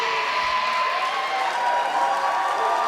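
A wrestling arena crowd cheers during a women's match between Hyena Hera and Adrianna, a steady, dense roar of many voices holding at an even level throughout.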